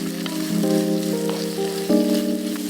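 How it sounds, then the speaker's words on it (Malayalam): Onions sautéing in coconut oil for crab curry, a close, steady sizzle with a few sharp stirring clicks, heard alone without voices. "വെളിച്ചെണ്ണയിൽ കിടന്ന് ഉള്ളി വഴറ്റുമ്പോൾ"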